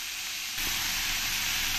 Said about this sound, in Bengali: এবার আমি এই ওলকপির মধ্যে একটু হলুদ দিয়ে দেব আর একটু লবণ দিয়ে দেব, দিয়ে ভালো করে আমি এগুলোকে একটু ভেজে নেবো।